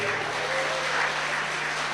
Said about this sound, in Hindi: तालियां नहीं बजाई आपने, थोड़ी बजाई।